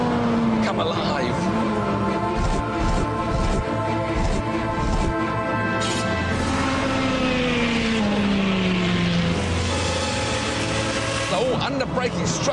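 A high-revving Ferrari F430 Scuderia engine at full throttle roars loudly and continuously, pitch rising and falling with gear changes, while someone talks over it.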